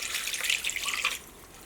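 Water from a soup can poured into a slow cooker holding beef stroganoff ingredients, a brief, close, bright splashing gush lasting about a second before stopping.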